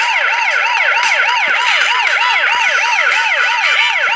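A police siren from the video game Turbo Dismount wails loudly and continuously, its rising-and-falling electronic yelp cycling rapidly and evenly throughout with nothing else heard.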